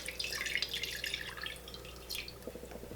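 A cup of rubbing alcohol is poured into a container, making a steady trickling, splashing liquid sound that is close and fairly quiet, with no talking.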